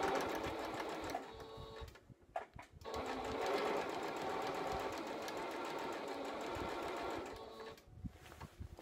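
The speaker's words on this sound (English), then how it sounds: "take your cording and just kind of put it up against that seam with your fingers and stitch a little bit" A sewing machine stitches cording against the seam of an 1840s-style petticoat, a steady close mechanical whir that runs almost throughout with two brief pauses in the middle and a dip near the end.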